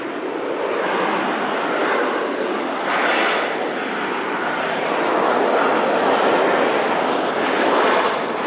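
A passenger airplane arriving from Dublin roars overhead on approach to Manchester Airport, a loud, broad engine rumble that swells and holds steady throughout with no talking.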